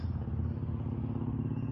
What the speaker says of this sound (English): that's the motorcycle coming